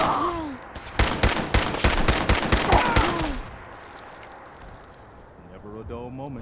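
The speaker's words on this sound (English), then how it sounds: "I have a super gun." Rapid video-game gunfire from a super gun in a game about longer power lines, a dense burst of sharp shots for about two seconds, with speech before and a voice talking after the volley.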